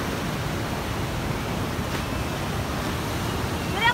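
Big ocean waves at a cave beach near Catherine Hill Bay, Lake Macquarie, New South Wales, make a continuous broad roar of surf mixed with wind buffeting the microphone.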